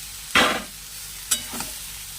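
A loud sizzle as pumpkin stems hit hot oil with garlic, followed by a couple of softer stirring scrapes in the pan.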